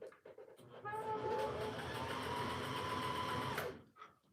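A sewing machine stitches fabric in one steady run of rapid mechanical whirring, loud and close, starting and stopping abruptly with a few light handling clicks around it.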